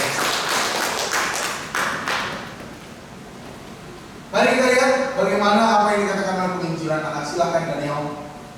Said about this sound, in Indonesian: Tepuk tangan dulu dong bagi Tuhan Yesus yang baik